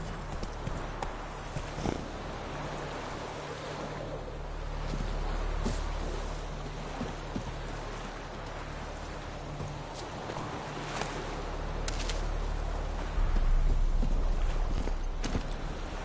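Horse hooves clip-clopping steadily at a gallop in The Witcher 3 on PS4, a continuous rhythmic drumming under a low game ambience, fairly close and moderately loud.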